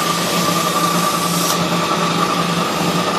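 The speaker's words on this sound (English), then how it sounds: "That's the air compressor kicking on." An air compressor runs steadily during a manual truck tire mount, giving a loud, continuous motor whine with an even tone throughout.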